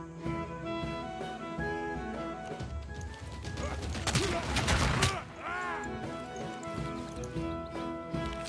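A ragged burst of gunfire from units in Civilization VI, with crashing impacts in the middle, heard over game music and someone talking.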